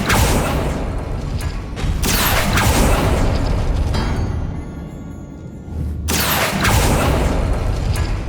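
A Bombarda spell explodes in Hogwarts Legacy, giving loud booming blasts with bursts around two seconds and again near six seconds amid dense, continuous game combat noise.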